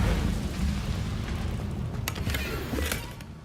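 An Incendio fire spell cast in Hogwarts Legacy, a loud rumbling whoosh of flame with booming bursts, then sharp crackling pops toward the end.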